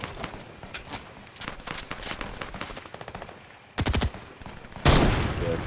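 Rapid gunfire in the Fortnite video game, dense bursts of shots crackling through most of the stretch, with two louder, heavier volleys near the end, heard without talk.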